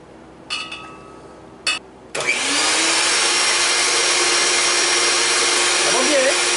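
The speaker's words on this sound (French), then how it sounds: "Là, nous allons battre les œufs en neige." An electric hand mixer whipping egg whites. A few short bursts come first, then the beater runs steadily at high speed, loud and close, with a continuous whirring drone.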